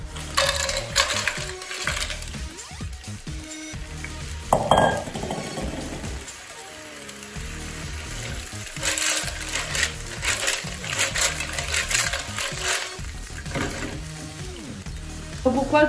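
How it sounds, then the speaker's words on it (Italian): Clams are dropped into hot oil for linguine alle vongole, with a clatter of shells hitting the pan followed by a steady sizzle and occasional clinks of a pan or utensil. "è bollente, buttiamo le vongole."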